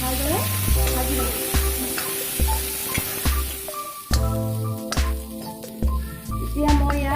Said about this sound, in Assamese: মটৰখিনি অলপ সময় ভালদৰে ভাজি ল'ব।